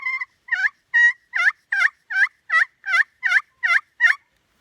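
A slate or pot turkey call imitates a hen with a series of about eleven sharp, evenly spaced yelps, loud and close, each note stepping down from high to low with silence between.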